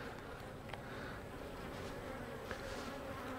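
Honey bees swarm around an open hive during a late-summer honey check, a steady close-up buzz with a few individual bees zipping past, no voices.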